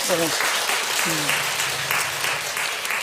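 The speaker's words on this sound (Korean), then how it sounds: "하나님께 영광 돌리는 박수 한번 하시고요." A church congregation at a women's mission seminar applauds together, a steady wash of many hands clapping that runs throughout, with a voice speaking briefly over the start.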